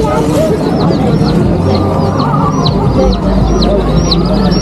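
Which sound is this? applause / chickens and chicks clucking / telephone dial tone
chickens and chicks clucking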